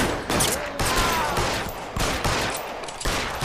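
Rapid bursts of gunfire in the video game L.A. Noire crackle continuously, volleys overlapping in a dense, steady barrage with no talking.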